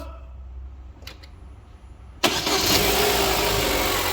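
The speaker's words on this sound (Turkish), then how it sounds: "Şimdi ilk marşına basıyoruz." Car engine cranking and firing up after a valve replacement, a few faint clicks then an abrupt catch into a loud, steady idle.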